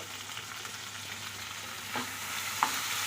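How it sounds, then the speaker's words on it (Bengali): Ridge gourd stirred and frying in a pan with turmeric and green chillies, a steady soft sizzle with a couple of scraping spatula strokes and a sharp clink near the end. "দিচ্ছি তারই সঙ্গে এই যে কাঁচা লঙ্কা দিয়ে ভালো করে একটু নেড়ে দেব"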